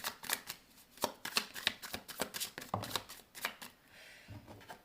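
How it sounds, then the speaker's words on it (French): Tarot cards being shuffled by hand, a quick run of crisp riffling snaps and flutters close up, with no talking over them. "on va donc sortir quelques cartes."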